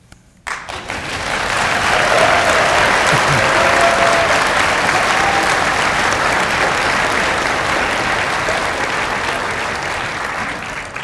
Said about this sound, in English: Let's give our Tigers another round of applause.